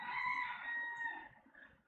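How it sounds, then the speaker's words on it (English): A rooster crows close by, one long loud call that holds steady and then fades toward the end, heard on its own without talk. "do you all hear the rooster?"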